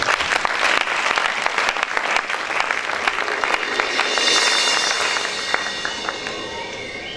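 A church congregation applauds and cheers during a worship service led by a bishop, sustained clapping from a packed room that swells and then eases slightly toward the end.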